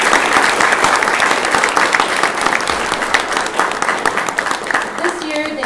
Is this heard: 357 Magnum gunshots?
no